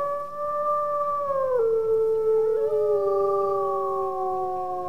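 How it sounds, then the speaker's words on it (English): A wolf in the Wolf Quest video game gives one long, clear howl that holds steady, drops in pitch partway through and then glides on. The howl is loud and sounds alone, with no talking. "Can hear Cinnamon howling back."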